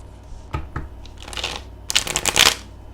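A few soft taps and slides of cards come first, then a crisp riffle shuffle bursts loudly near the end as the deck is bridged and snapped together.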